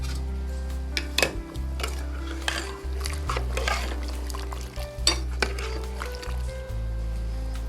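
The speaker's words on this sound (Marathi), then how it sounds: "थोडंसं छान हलवून घेऊ याला." Country chicken curry is stirred in a pot, with a spoon repeatedly scraping and clattering against the metal over a low, steady simmering hum. The knocks come in an irregular rhythm, close up.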